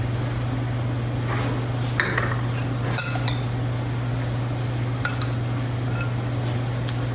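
A celery side dish is stirred in a bowl, giving light clinks and taps of a utensil against the dish, sparse and close, over a steady low hum.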